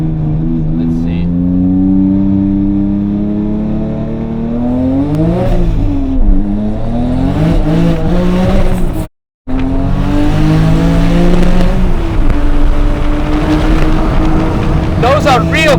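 A 1000hp 9ff Porsche Turbo revs hard on the Nürburgring, its exhaust roaring loud and close through rising and falling sweeps, with a brief dropout midway and voices talking over parts of it.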